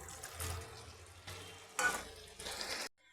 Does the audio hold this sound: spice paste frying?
yes